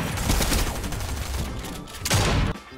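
A loud, sustained rattle of rapid gunfire in a shooter video game keeps up without pause, ending in a last hard burst.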